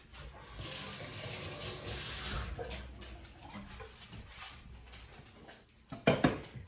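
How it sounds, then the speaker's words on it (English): A hand rinsed under a running kitchen tap while making homemade venison spaghetti sauce, soft steady water flow with a brief louder splash near the end, no speech. "Let me rinse my hand."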